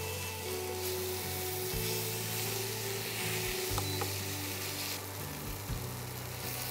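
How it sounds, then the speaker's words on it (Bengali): Ash gourd with prawns and bori sizzles in a pan, a faint, steady hiss with soft scraping stirs at intervals. "ভাজাটা প্রায় হয়ে এসছে"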